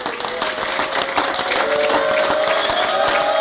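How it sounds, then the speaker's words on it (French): A church congregation at a Belgian Saturday service applauds and cheers loudly, a dense, sustained wash of clapping and shouting voices with a steady organ or keyboard tone beneath. "Est-ce qu'on peut les acclamer très fort?"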